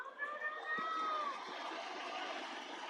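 A large ballpark crowd of over 28,000 at a Padres versus Reds baseball game rises in a sustained roar of cheering, broad and distant, with a commentator talking over it.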